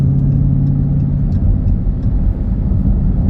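A Dodge Hellcat's engine heard from inside while driving, a loud, steady low rumble that stays constant with no talk over it.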